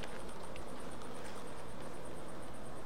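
Honeybees in a young colony's hive make a dense, continuous buzzing drone, close and steady throughout, with no voices.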